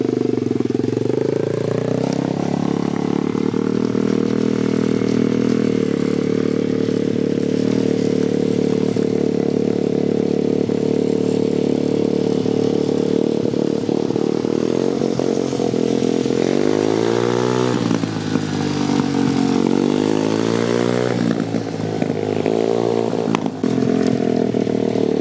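A dirt bike engine runs loud and close throughout, holding a steady buzzing drone and then rising and falling in pitch as the rider works the throttle during a riding lesson.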